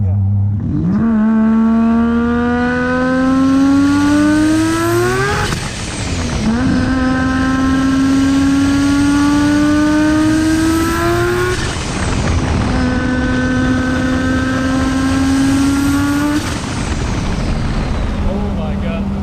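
A turbocharged 20B three-rotor rotary engine (80mm turbo) in a Mazda FB RX-7 revs hard in three long pulls, pitch climbing smoothly each time before dropping off, loud and close with a buzzy, raspy tone.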